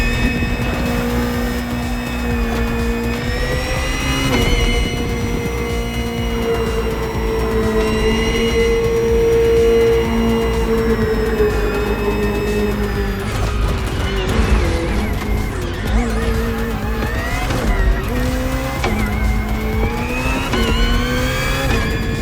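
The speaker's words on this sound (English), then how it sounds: "Finally, the BMW M Hybrid V8. What a beast." BMW M Hybrid V8 endurance race car from 2023, driven in The Crew Motorfest: a loud, sustained engine drone with rising and falling revs and gear changes, steady and close throughout, with no talking.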